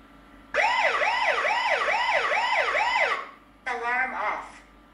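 A eufyCam 2 Pro security camera sounds another alarm tone, a loud close wailing siren that rises and falls in steady sweeps for about three seconds, stops, then returns as a brief rapid warble.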